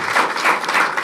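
A live audience bursts into steady applause at a motivational talk, a dense wash of many hands clapping at even loudness for about a second with no voices over it.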